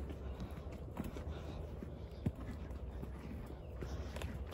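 A mare's hooves clip-clop at a slow walk around a farm in the Deep South, with soft, fairly steady steps over a constant outdoor background.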